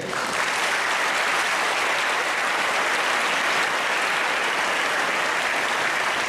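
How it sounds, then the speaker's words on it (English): An audience at an Independence Day celebration gives a guest a loud, dense round of applause, steady and unbroken throughout, with no voices over it. "Please give him a loud applause for being present here today."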